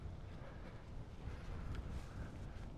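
Wind blowing steadily on an outdoor walk toward a dam, a constant low rumbling roar buffeting the microphone with no let-up and no talk.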